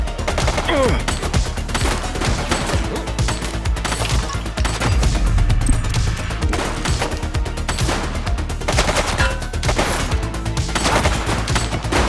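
Sustained gunfire in the police video game The Precinct: dense, rapid volleys of shots crackling continuously over a busy game backdrop, with faint voices mixed in.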